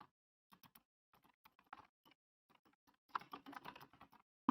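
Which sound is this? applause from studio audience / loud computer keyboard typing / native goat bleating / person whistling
loud computer keyboard typing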